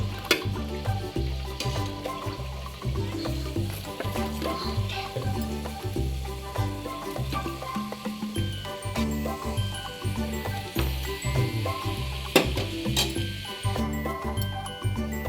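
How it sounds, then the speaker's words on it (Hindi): Onion kachori fry in hot oil, a steady close sizzle and bubbling crackle with occasional utensil clinks, continuous throughout with no talking. "तक हमारा दूसरा बैच फ्राई हो रहा है"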